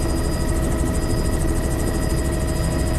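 A helicopter approaches with a loud, steady rotor thump and engine whine that fill the scene continuously, heavy broadband noise throughout, no voices.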